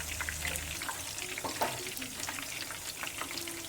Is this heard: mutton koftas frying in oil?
yes